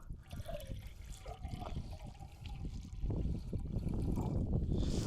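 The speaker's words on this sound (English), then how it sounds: "Pour some water in." Water poured out of a floppy plastic bottle outdoors among rocks, a low gurgling trickle that grows into a fuller, steadier splashing stream, quiet and close.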